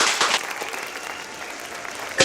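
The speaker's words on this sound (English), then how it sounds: "Everybody give us a round of applause." Applause from a podcast audience closing out a season finale, a steady patter of clapping that swells at the start, holds evenly, and rises again briefly at the end, with no talking.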